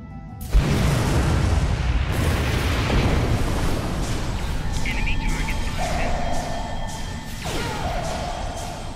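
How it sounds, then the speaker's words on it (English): Rapid weapon fire and crashing blasts from a space-combat game, Star Trek Online, fill a dense, loud, continuous barrage of bursts under an ongoing voice, with tonal whines rising partway through. "Wow, that is some fast firing weapon."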